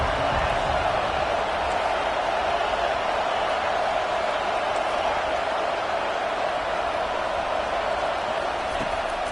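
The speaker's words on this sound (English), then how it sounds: "Decibels rising as the crowd gets behind this defense on 3rd down" Stadium crowd roaring during a third-down defensive stand in the College Football 25 video game, a dense, steady wash of noise that stays loud and unbroken throughout.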